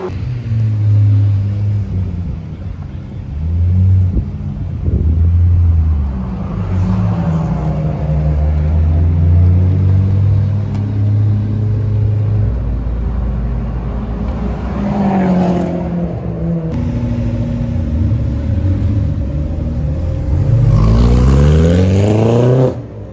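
An Aston Martin Vantage race car on a track rumbles and revs through rising and falling gear changes, loud and close, with engine pitch sweeping up repeatedly as it accelerates.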